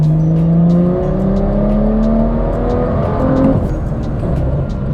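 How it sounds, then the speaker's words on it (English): BMW F87 M2 accelerating hard through a third-gear pull, engine note rising steadily in pitch with a loud, continuous, close drone and no talking. "So that's just a little 3rd gear pull"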